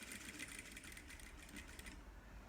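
A sewing machine stitches a striped dish towel, running as a steady rapid mechanical whir for about two seconds before stopping, quiet and close.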